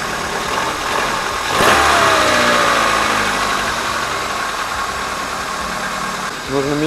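A Hyundai Elantra 1.6 with automatic gearbox idles cold with a worn timing chain, giving a steady mid-pitched engine drone with a rattling knock running through it, loud and close, with a brief swell partway through.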